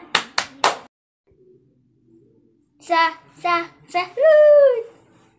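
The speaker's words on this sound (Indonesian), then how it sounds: "Kasih tepuk tangan untuk Rafa." Children in a primary school classroom give three sharp, close claps in a quick rhythm, followed by a pause and then young voices chanting together.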